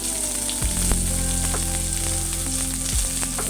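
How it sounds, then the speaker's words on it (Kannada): Onions sizzle steadily in a hot pan, frying until soft for a restaurant-style paneer matar masala; a continuous close, loud crackle with a few brief clinks and shifts, no voices. "ಸ್ವಲ್ಪ ಈರುಳ್ಳಿ ಮೆತ್ತಗೋವರೆಗೂ ಫ್ರೈ ಮಾಡ್ಕೊಳ್ಳೋಣ"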